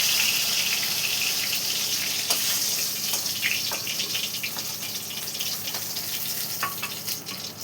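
Tilapia fish fry in hot oil with a loud, continuous hiss and sizzle, crackling with small pops throughout. No voices.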